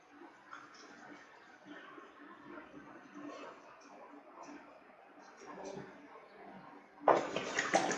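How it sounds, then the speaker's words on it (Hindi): Water sprayed onto the back side of a Gree air conditioner indoor unit during home cleaning, a steady low hiss that bursts into a loud, close spray near the end. "अब मैं थोड़ा बैक साइड पे भी लगा देता हूँ पानी।"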